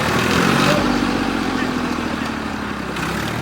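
A tractor engine runs steadily while the tractor sits stuck in wet, muddy ground, a continuous mid-pitched rumble with a slight rise at the start, with people talking over it.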